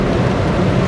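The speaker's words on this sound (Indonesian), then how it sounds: "cuaca masih hujan ya, masih gerimis" Steady drizzle and road rain noise surround a Daihatsu Ayla driving in wet, slippery traffic on the Ambarawa–Jakarta route, a dense continuous wash with no pauses and no one talking.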